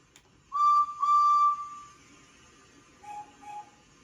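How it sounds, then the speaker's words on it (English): A steam-style train whistle in a Roblox railway game toots twice, shrill and clear, followed by two softer, lower toots in an otherwise quiet scene. "Okay, I get a whistle from Spencer, but not Thomas."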